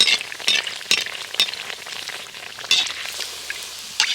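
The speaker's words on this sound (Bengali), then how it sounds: "এবারে এইভাবে তেল নাচিয়ে নাচিয়ে ভালো করে একটু ভেজে নেব" Rice-flour snacks deep-fry in hot oil, a bright hissing crackle broken by splashy bursts as hot oil is spooned over and the pieces are flipped, close and continuous, no voices.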